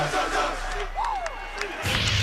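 Loud, continuous roar of a packed college football stadium crowd at Oregon's Autzen Stadium, with whoops and shouts rising over the din and swelling again near the end.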